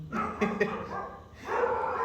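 Several dogs barking in short bursts, fairly close and loud, mixed with someone talking throughout.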